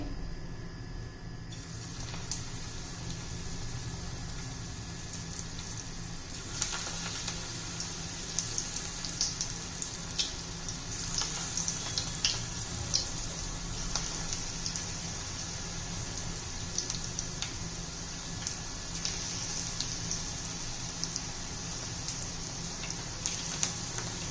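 Small gram-flour bhaji fry in hot oil, a steady dense sizzle and crackle lasting throughout with occasional sharper pops, close by and without talk.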